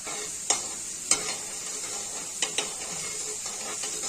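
Potatoes fry in a pan for a Bengali cauliflower dish, giving a steady bright sizzle broken by a few sharp scrapes and clinks of a spatula stirring against the pan, close up with no talking.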